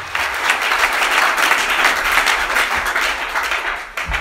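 A church congregation breaks into sustained, dense applause that fills the room at steady volume for several seconds before tapering slightly at the end.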